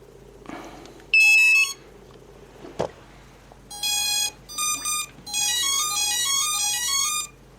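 After the battery is plugged in, an MD2 drone's ESCs play a beeping electronic startup melody: a short high tone burst first, then a series of rising, stepped beeps in quick clusters, close and clear over faint background noise.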